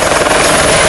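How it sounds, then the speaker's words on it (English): Loud, steady helicopter rotor and engine roar fills the cabin up close, a continuous throbbing drone during a low-level flight over the Zambian bush to a remote camp. "it's only reachable by, yep, you guessed it,"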